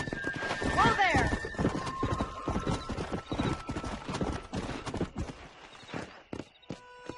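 Hooves clip-clop on a horse being ridden in the video game Red Dead Redemption, with a whinny near the start and then a quick, uneven trot of close hoof beats, while voices talk over them.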